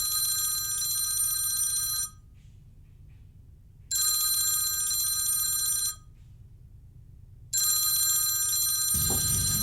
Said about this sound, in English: Could we get Phil on the phone, do you think